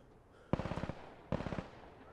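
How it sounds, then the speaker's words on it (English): Two short bursts of rapid automatic gunfire in the shooter game Insurgency: Sandstorm, each a string of about eight or nine quick evenly spaced shots, loud and close, separated by a brief pause. "Okay, that's suppressing fire."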